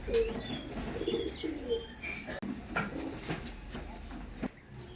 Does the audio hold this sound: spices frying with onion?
no